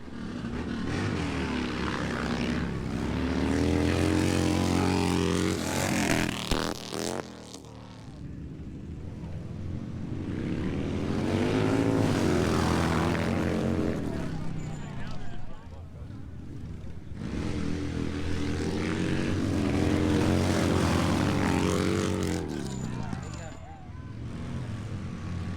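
Vehicles racing in the grand finale at a Born Free Texas event, engines rising and falling in three long roaring passes, loud and near with a brief lull between, and voices talking beneath.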